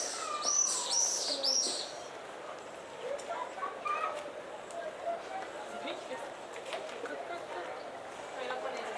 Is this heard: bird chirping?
yes